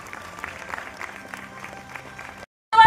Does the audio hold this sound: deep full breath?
no